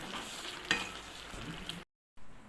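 Masala sautéing in a pan gives a soft, steady sizzle with a brief clink of a utensil, quiet and close, cut off abruptly by a short silence before it resumes.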